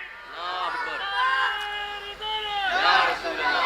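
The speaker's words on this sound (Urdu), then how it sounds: "درمیان سے کوئی لگائے نعرہ اسلام زندہ باد کے نعرے لگائیں" Many voices at a religious gathering chant the slogan Islam Zindabad together, drawn-out tones rising and falling in two loud surges, the second stronger.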